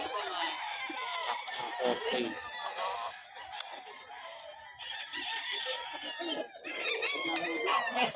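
Gamecock roosters at the Bocaue pet market crow and cluck nearly nonstop, several birds overlapping at close range over steady crowd noise, with someone talking briefly.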